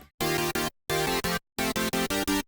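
Dry, unprocessed synth chord layers from a drum and bass drop: short clipped stabs in groups of three, separated by sharp silences, loud and close with no talking.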